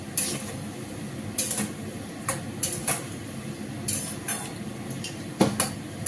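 A spoon scrapes and clinks against a pan while kofta curry is stirred, sharp metallic strokes coming in irregular bursts over a low simmering hiss, close by with no voices.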